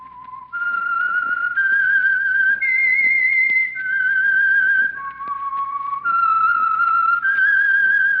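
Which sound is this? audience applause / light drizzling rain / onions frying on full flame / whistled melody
whistled melody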